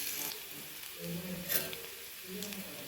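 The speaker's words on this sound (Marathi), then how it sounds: "एक छान कांदा लाल होईपर्यंत परतून घ्यायचं" Onion sautéing in a hot pan gives a faint, soft sizzle with a few brief stirring scrapes, quiet and close.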